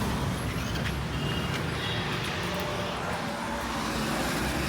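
A car drives along a road, heard as a steady, loud, continuous rumble of engine and tyre noise from inside the vehicle, with no pauses.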